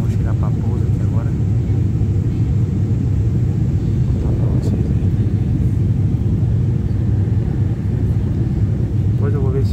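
Steady, loud low-pitched drone of a Voepass ATR 72-500 turboprop cabin during approach to Congonhas Airport, São Paulo, a continuous propeller and engine rumble with a few faint voices murmuring underneath.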